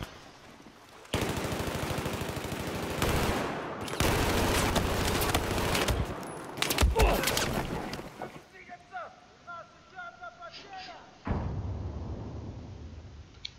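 Rapid bursts of automatic weapon fire in Battlefield 4's Operation Metro map, Domination mode, come in loud clustered volleys separated by short pauses, with quieter game sounds and faint chatter between them.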